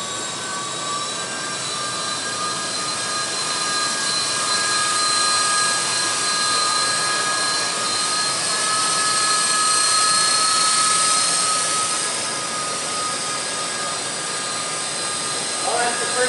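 A helicopter flies with an underslung load during a test for a commercial shoot, its engine and rotor drone steady and loud throughout with a whining high tone, and a voice talks over it.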